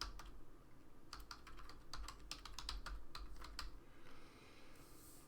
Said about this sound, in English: So we have to kind of just type them out.